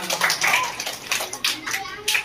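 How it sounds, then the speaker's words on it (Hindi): Children at a school event clap in uneven bursts, fairly close, mixed with children's voices and chatter. "हाँ, जोरदार तालियां"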